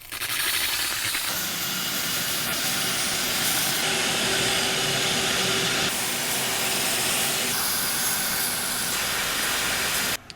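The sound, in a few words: steam cleaner with steam extractor hissing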